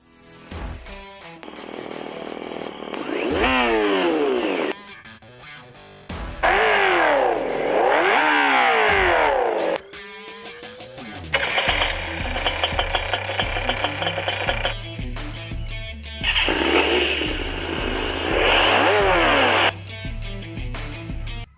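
A Revolt RV400 electric motorcycle's artificial engine sound system plays several selectable synthetic engine tones in turn, with electronic buzzing and sweeping pitches broken by short pauses and a low droning hum in the later sounds.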